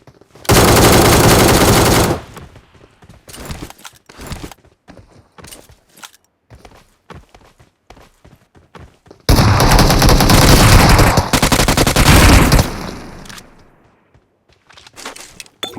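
Automatic gunfire rattles in a battle royale video game match, two long sustained bursts of rapid shots separated by scattered single shots and footstep-like taps, loud and close.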